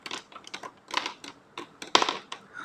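Small hard objects are shuffled around on a tabletop, making a quick run of light clicks and taps in irregular bursts, close and fairly loud with no talk.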